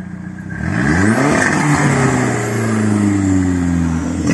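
An Audi A3 turbo with a forged engine revs hard for a burnout. The engine note starts near, loud and steady, then climbs and falls in sweeping pitch changes, with a gritty clatter layered over it.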